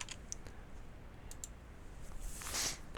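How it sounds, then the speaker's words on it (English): Typing an invoice number on a computer keyboard in QuickBooks Online: a few faint, sparse key clicks, then a brief, slightly louder burst of tapping near the end, in a quiet room with no talking. "so you just type in the invoice number."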